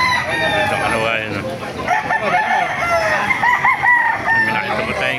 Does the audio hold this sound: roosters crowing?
yes